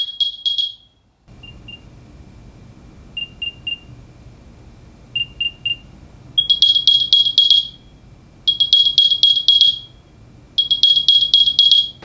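Apple AirPods Pro 2 play their Find My locating chime, a loud, high chirping pattern like an AirTag, starting as a few short beeps and building into three longer bursts of rapid chirps over a faint background hum.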